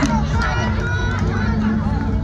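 Loud, continuous applause from a crowd at a women's luk thung singing contest at a Bun Khun Lan festival in Kut Chum district, with crowd murmur and voices blended underneath.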